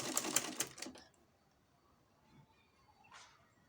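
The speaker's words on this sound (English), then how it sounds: "I'll connect the notch parts together and sew a straight line stitches." A sewing machine runs a quick straight-line stitch through notched fabric pieces, a brief burst of rapid rhythmic clatter lasting about a second before stopping into near silence.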